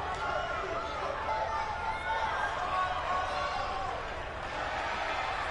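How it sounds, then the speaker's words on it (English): Dense crowd noise from a large wrestling arena audience, a steady roar of cheering and chatter with no breaks. "And you hear the fans cheering for Psycho Clown, a big fan favorite"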